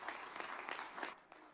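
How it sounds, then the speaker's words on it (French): Audience applause for Morocco, named host of the 2025 Africa Cup of Nations, at a televised event: a short burst of scattered clapping that fades toward the end. "Pouvons-nous applaudir le Maroc"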